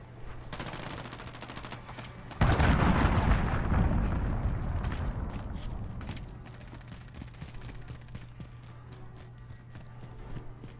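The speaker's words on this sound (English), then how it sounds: "Enemy cruise missile. Take cover." A cruise missile strike in the shooter game Modern Warfare lands as a sudden, loud explosion that booms and rumbles away over several seconds, amid bursts of gunfire before and after.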